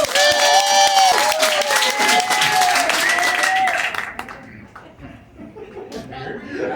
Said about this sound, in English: Somebody started to clap